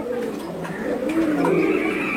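High flyer pigeons coo in a low, rolling murmur that swells toward the end, steady and fairly close, with no voices over it.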